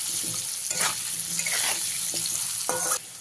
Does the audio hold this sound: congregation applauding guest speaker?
no